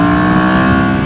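A Ducati Monster motorcycle engine hums steadily and loud while being ridden along winding Spanish mountain roads, a brief, even, close-up drone.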